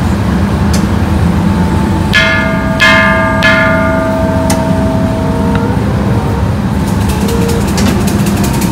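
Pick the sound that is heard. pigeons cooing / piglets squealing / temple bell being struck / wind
temple bell being struck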